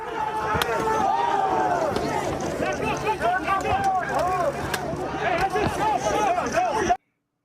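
Rioting crowd of students at UCLA, a dense babble of many shouting voices with rising yells and chants, loud and continuous throughout before cutting off abruptly.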